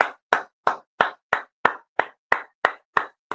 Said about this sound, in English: You know I'm clapping.